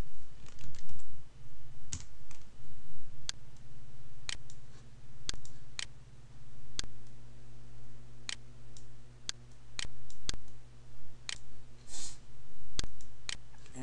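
Sparse keystrokes on a computer keyboard, single crisp clicks spaced about a second apart over a steady low background hum, close and without speech.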